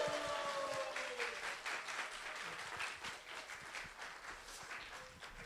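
An audience at a church gathering gives a steady round of applause for a pastor and a missionary. The dense clapping continues without a break for several seconds at moderate volume.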